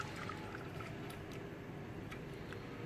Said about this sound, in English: Now 3/4 of this boiling water goes into your pan on the heat,